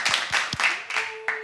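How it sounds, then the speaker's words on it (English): Audience applause at a talk show taping, heard as a brief spatter of a few sharp, close hand claps. "Give them a round of applause"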